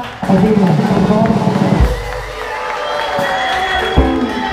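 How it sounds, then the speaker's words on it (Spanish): Loud crowd cheering and shouting at a freestyle rap event in Rosario, Argentina, settling into a sustained roar of voices, with a few claps and knocks near the end. "un aplauso gigante para uno de los mejores freestylers que tenemos en la Argentina, desde el Tata."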